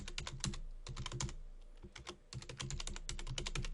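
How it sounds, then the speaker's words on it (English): Keys clatter on a computer keyboard as a user ID is entered, quick close clicking in short bursts with brief pauses between, no voices. "So you type in your user ID,"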